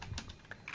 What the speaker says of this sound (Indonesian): Kita ketik ping